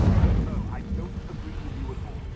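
Incendio fire spell cast in the Hogwarts Legacy video game, a loud whooshing burst of flame at the start that fades into a crackling, rumbling tail.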